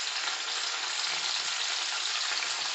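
Mixed vegetables with salt and turmeric powder fry lightly in a pan, giving a steady, even hiss of sizzling throughout with no voices.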